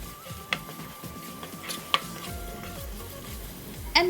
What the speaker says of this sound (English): Add 1 teaspoon turmeric powder and stir well